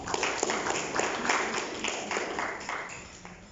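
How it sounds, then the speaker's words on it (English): An audience at a women-in-business round table event applauding, a dense, steady wash of clapping from many hands that continues throughout and fades slightly at the close. "Let's please give a big round of applause for Nusrat Valilu."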